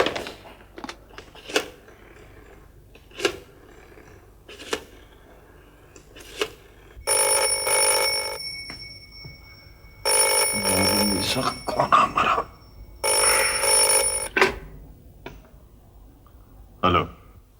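A telephone call is dialed in a Hindi TV drama: several short clicks and tones come first, then three loud electronic ring bursts separated by brief pauses.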